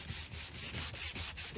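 Sandpaper rubbing wet over the paint of a 1985 C4 Corvette front end, a soft, close scratchy swish in quick back-and-forth strokes with brief pauses between passes.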